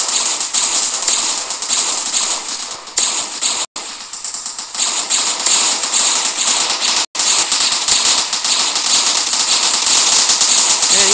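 Rapid, dense gunfire rattles almost without pause while shooting at an alien leader boss in a Roblox zombie attack game, loud and continuous with two brief cuts to silence.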